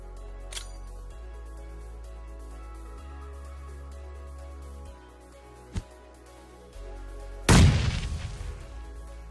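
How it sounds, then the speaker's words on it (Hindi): Grenade blast and gunfire in a shooting video game: a few faint scattered hits and low thuds, then one loud booming explosion near the end that decays slowly, with no talking. "तो ग्रेनेड वगैरह मैं स्टार्ट कर देता हूँ"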